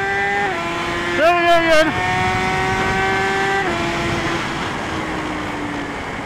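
Motorbike engine of a lightweight custom creation while riding, a strong tonal whine that revs up, briefly surges around gear changes and then settles to a steady drone, with a short spoken line over it.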